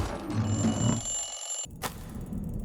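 An alarm clock in the video game Dishonored 2 rings in a fast, shrill, continuous metallic trill that cuts off abruptly, followed by a brief click and quieter room ambience.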